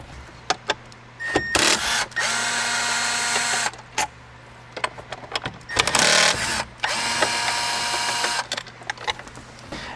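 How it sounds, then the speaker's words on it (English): A power tool whirs inside the cabin of a Lexus LC 500 as two 10mm bolts come out of the interior trim, with two sustained close-up whining bursts and short clicks and clatter between them. "let's remove those two 10mm bolts."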